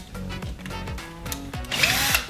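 Power drill driving drywall screws into a wall to mount a Cozyla Calendar+ 2, a close whirring motor whose pitch sweeps up and down in several short, repeated bursts, with no voices.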